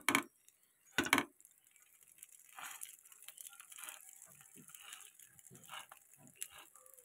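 A fork presses down the sealed edges of a stuffed aloo paratha: two sharp taps at the start, then a run of softer, quieter presses and clicks with faint murmuring in the background.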